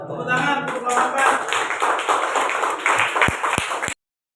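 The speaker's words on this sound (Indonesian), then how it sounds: "Tepuk tangan untuk kelompok" A classroom group claps after a group presentation, a brisk, fairly loud patter of hands with some talk mixed in, ending in a few isolated sharp claps before cutting to silence.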